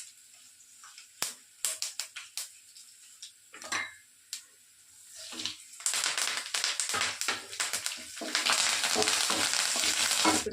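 Cumin, curry leaves and dried red chillies hit hot oil after the urad dal has browned: sparse taps and spatters at first, then a dense, loud, steady sizzle building through the second half.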